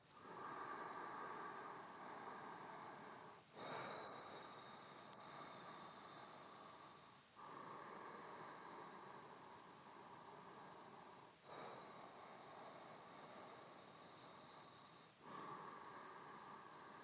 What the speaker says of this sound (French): on pose les mains au sol et on compte 4 profondes respirations